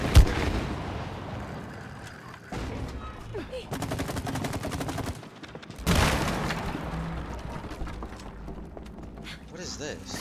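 Rapid shooting at wasps in the co-op video game It Takes Two, with dense bursts of gunfire and booming hits mixed into loud game action while players talk over it.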